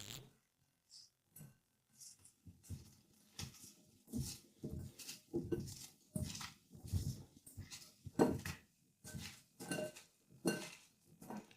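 Ingredients are mixed in a baking dish, giving quiet, irregular scraping and clinking bursts of utensil against dish, closely spaced and growing busier and slightly louder toward the end.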